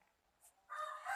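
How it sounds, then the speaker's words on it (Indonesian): A rooster crows once at moderate distance, a short bright call rising then sustained to the end, after a near-silent start and a faint brief chirp. "bahwa kokokan ini adalah suara dari ayam"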